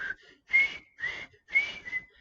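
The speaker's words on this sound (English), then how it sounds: "he starts most of his courses by whistling. And he's a really bad whistler." Wobbly, off-key whistling at the start of a course lesson, heard as several short breathy bursts with gaps between them, close and alone with no talking.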